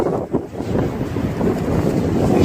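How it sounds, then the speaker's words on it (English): Strong wind buffets the microphone in a steady low rumble during an outdoor flight of an Eachine QX90C brushed micro drone. "Extremely difficult to fly it out here with all this wind and everything."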